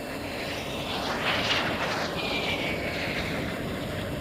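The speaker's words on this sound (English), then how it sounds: "The power plant of the Vampire, originally the Halford H1, Frank Halford being de Havilland's main eng" Inside the cockpit of a de Havilland Vampire jet flying a display at RIAT 2018, its engine, originally the Halford H1, gives a steady, loud, broadband roar with a rushing airflow and a faint whine that swells briefly midway.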